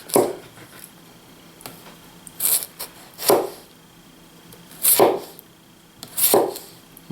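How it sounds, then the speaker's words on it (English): Vegetables sliced with a 3/16 knife: a handful of separate soft swishing cuts spaced a second or more apart, close by against a quiet background, with no talking. "You're just chopping or slicing."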